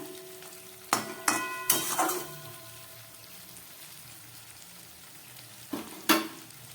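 Flat beans (shim) cook in a pan over a low gas flame with a soft, steady sizzle, broken by a few sharp clanks of a utensil against the pan.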